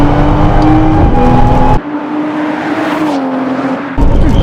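A Toyota Supra Mk5 engine pulls hard under full throttle, loud and close, its pitch climbing steadily before a sudden drop at a shift, then rising again before a second shift, no talk over it.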